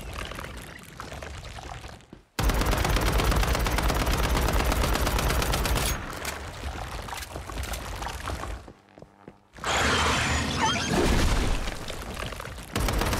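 Dense, sustained automatic gunfire in the Once Human video game, aimed at a final boss, rattling loudly in long bursts with a short pause between volleys.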